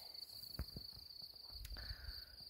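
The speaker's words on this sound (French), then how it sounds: "Vous entendez les grillons." Crickets in a garden near a hay-filled bin keep up a faint, continuous high trill, with soft footsteps and rustling scattered underneath.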